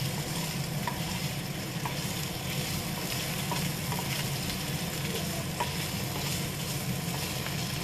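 Tomatoes and vegetables frying in a pan give a steady moderate sizzle, with soft scraping and clinks from stirring recurring every second or so, close by and without speech.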